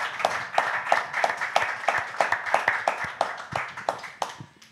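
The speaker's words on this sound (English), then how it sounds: "So round of applause for everyone" A small group claps for the team at a SpeakuP Monday meeting, with a dozen or so distinct, fairly close hand claps in a loose, uneven rhythm, each one clear rather than blended into a roar.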